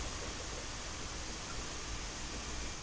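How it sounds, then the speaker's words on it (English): A water cooler running in a video game, a steady, even hiss of broadband noise that holds unchanged and alone throughout, fairly faint and close. "Oh, no, that's a water cooler."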